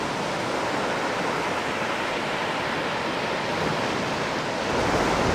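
Ocean waves break continuously on a surf beach in Olympic National Park on an autumn day, a loud, steady wash of surf with no voices.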